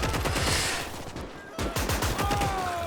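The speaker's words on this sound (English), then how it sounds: "They're frightened by the MG fire." Machine gun fire in the WWII battle game Gates of Hell: Ostfront, in a street fight near Fastov, with rapid rhythmic bursts rattling throughout, loud and close, and a couple of whistling high tones over the shooting.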